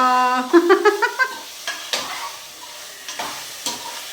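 Chicken curry cooks in a pan, with a spoon scraping and knocking against the metal in short bursts over a faint sizzle. A few tonal clinks come early, then the stirring continues more sparsely.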